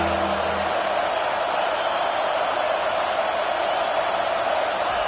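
A big, steady stadium crowd roars without a break in a College Football 25 game, a dense wash of cheering that fills the space and stays loud, with a brief low hum at the very start.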